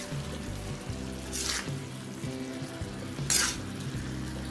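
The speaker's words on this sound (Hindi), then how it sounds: "और अच्छे से इसको मिक्स कर देते हैं" Cauliflower, peas and chicken stirred on a hot tawa, giving a steady soft sizzle with two brief scraping swishes of the spatula, close and continuous with no talking.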